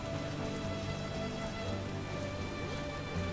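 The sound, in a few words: rain in The Witcher video game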